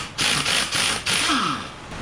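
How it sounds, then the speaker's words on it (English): A wrench driving down the strut nut on a 2007 Honda Odyssey during a strut swap, giving a run of loud, close ratcheting clicks in three or four bursts with brief pauses between them. "put a little wrench on top, drive it down with another wrench"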